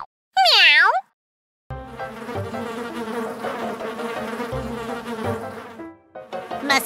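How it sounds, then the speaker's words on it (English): Cartoon mosquitoes buzzing in a steady, dense drone layered with bouncy music, after a brief high meow-like cry at the start. "Fuzzy, buzzing mosquito pilots!"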